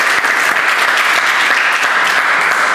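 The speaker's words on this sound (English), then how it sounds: "So let's give Coach Luis a applause." An audience at an all-star soccer event applauds a coach, a dense, sustained wash of clapping from many hands, loud and even throughout with no talk over it.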